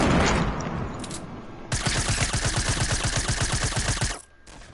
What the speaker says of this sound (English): SMG from 80 meters, boys